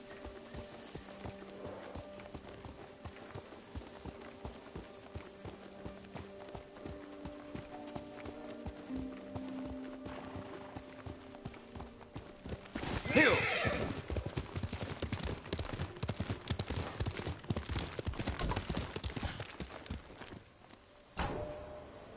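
A video game horse named Kage trots with steady clip-clop hoofbeats and lets out a loud whinny partway through, its galloping hooves picking up pace and volume toward the end over a soft background score.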